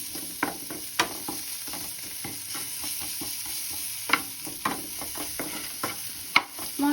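Spice paste sautéing with pink salt for a Bengali boal fish curry, heard as a steady close sizzle broken by repeated scraping and stirring strokes of a spatula against the pan, with no talking.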